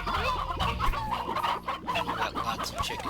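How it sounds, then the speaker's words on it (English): Chickens from the video game Slime Rancher cluck and squawk continuously, several birds overlapping in a lively, close farmyard chatter. "there's quite a few chickens"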